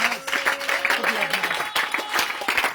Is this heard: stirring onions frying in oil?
no